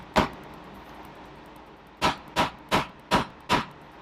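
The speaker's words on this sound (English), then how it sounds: "Take my rubber mallet." Rubber mallet tapping the front wheel axle of a 2014 Kawasaki Z1000 motorcycle: one sharp knock, a pause, then five evenly spaced firm taps, close and clear with no talk.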